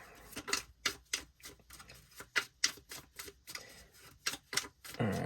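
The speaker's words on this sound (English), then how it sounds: "one more shuffle here" Tarot cards being shuffled in a series of quick, close, papery riffles and taps, irregular bursts repeating over several seconds with no talking.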